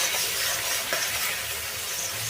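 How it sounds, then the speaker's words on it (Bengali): Chopped onions fry in mustard oil for biryani, giving a steady, close sizzle with some faint stirring and no talk. "এই পেঁয়াজটা অনেকক্ষণ সময় নিয়ে ভালো করে ভেজে নিতে হবে"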